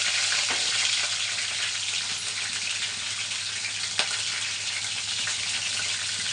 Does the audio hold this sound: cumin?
yes